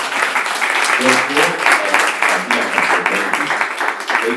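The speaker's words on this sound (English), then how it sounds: "please join us to give the big applause for our three speakers" Audience applause for three speakers at the close of a public health and business talk: steady, full clapping runs throughout, with a voice speaking briefly over it.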